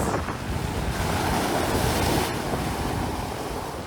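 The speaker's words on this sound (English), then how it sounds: "Look at these waves." Ocean waves rolling onto a Philippine beach, a continuous close wash of surf with wind rushing across the microphone, swelling slightly in the middle and easing off toward the end.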